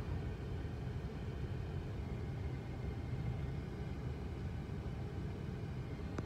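A ride-hailing car pulls away with a steady low engine rumble and road noise, heard from inside the cabin at constant loudness with no talk.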